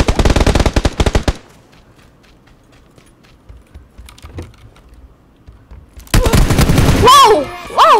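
Bursts of automatic rifle fire in the PUBG battle royale game, rapid loud rattling volleys at the start, then near quiet with faint distant shots, before another loud burst of gunfire as a player yells excitedly over it.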